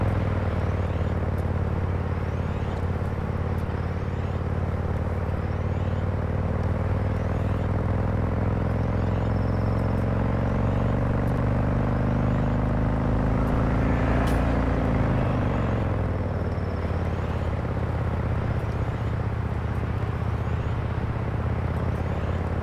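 A car driving itself on auto drive in a video game hums with a steady, loud engine drone, holding even pitch before easing lower midway, with no voices present.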